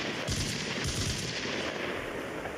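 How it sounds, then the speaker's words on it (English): Automatic gunfire from a machine gun in the military shooter Arma Reforger, a steady stream of rapid shots with a few heavier thumps, continuous and fairly loud throughout with no speech. "adding fuel to the car caused the machine gun to go off"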